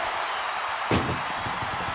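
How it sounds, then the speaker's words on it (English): An ambulance door slams shut during a WWE 2K25 ambulance match, a single sharp bang heard over a constant roar of crowd and game noise. "Trying to at least slam one door shut."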